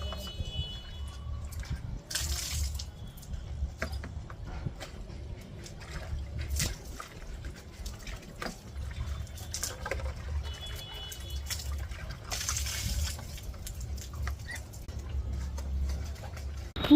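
Water running into a household tank in a hilly home, a low steady filling rumble and trickle lasting throughout with occasional splashy bursts and small ticks and knocks, fairly quiet and close.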